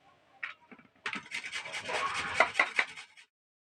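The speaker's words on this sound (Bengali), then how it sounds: "গাজরগুলো আবার ঘষানোর সাহায্যে আমি ঘষে নেবো এইভাবে ঘষে নেবো" Carrots grated for carrot laddu, a few tentative scrapes and then a run of close, rough rasping strokes that stops abruptly.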